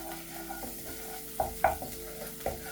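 Spices sizzle softly in a pan over a low flame while a utensil stirs and scrapes, giving a few light knocks against the metal over a constant frying hiss.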